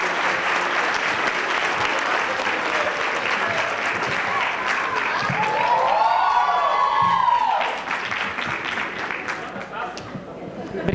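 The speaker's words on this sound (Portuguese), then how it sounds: "Mais uma vez, uma salva de palmas a Stefano Pedroso." An audience applauds steadily for Stefano Pedroso at a legal conference, with dense continuous clapping that swells midway as a voice speaks over it, then thins out.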